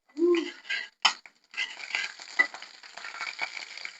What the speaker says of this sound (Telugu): ముందు పోపు పెట్టుకుని తర్వాత వేయించుకుందాము